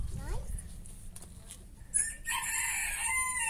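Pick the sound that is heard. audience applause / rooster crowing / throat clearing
rooster crowing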